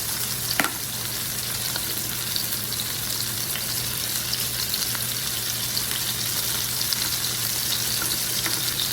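A mixed ground-meat burger patty frying in a pan for a carrot-bun burger, a continuous steady sizzle and crackle throughout with one sharp tap near the start and no talking.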